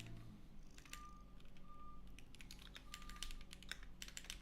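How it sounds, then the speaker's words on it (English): Fingers tap on a computer keyboard in quick, uneven bursts of close clicks with short pauses, over a low steady room hum and a faint intermittent beep. "I have no idea what I'm typing."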